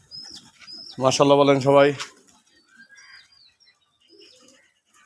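Native pigeons coo on a pigeon farm, a loud close run of throaty cooing notes lasting about a second, followed by faint chirps and quieter bird sounds, with someone speaking briefly.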